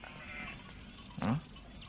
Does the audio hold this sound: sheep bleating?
yes